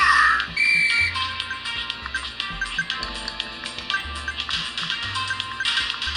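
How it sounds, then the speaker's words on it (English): Mobile game sounds from Subway Surfers playing on a tiny, glitchy mini phone: bright whistling tones and chirpy effects over a pulsing low beat, with rhythmic taps and blips throughout, close and fairly loud. "I'm just gonna play Subway Surfers because it's easiest to play while I'm recording."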